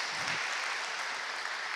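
A brief burst of applause from a church congregation during a sermon, steady clapping with no voices over it.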